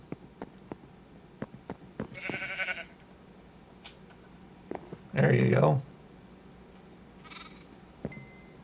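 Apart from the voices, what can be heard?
sheep bleating in the video game Minecraft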